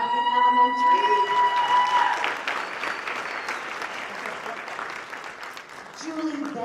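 An audience clapping for a teacher being introduced at an elementary school event, a steady burst of applause from a crowd that starts after a short opening and goes on under a voice speaking.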